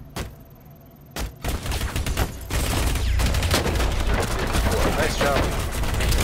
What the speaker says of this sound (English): Shoot him through the cabinet.